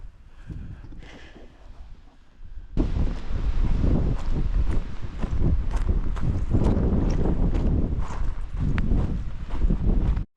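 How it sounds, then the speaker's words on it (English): Strong wind on a mountain hike buffets the microphone in loud rumbling gusts, softer at first and then surging to a constant roar with rattling bursts. "It is windy."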